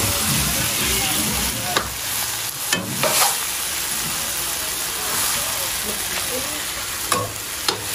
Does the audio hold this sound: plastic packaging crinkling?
no